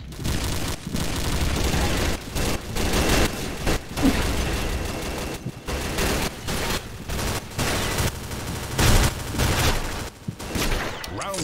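Automated turrets firing in the Combat Arms shooter game, a loud, sustained, densely rapid burst of gunfire running nearly unbroken for over ten seconds with a few brief gaps.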